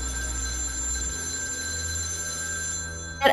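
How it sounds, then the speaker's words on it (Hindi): An old telephone rings late at night in a home, a steady electronic ringing tone that holds for about three seconds, close and clear, and ends in a short click. "उस टेलीफोन के बजने की आवाज आई"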